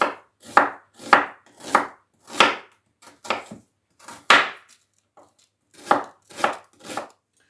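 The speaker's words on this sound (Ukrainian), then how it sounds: "а моркву намагатимусь такими смужечками тоненькими порізати" A knife chops carrot into thin strips on a board, giving about a dozen sharp, close knocks in an uneven rhythm with brief pauses and no voices.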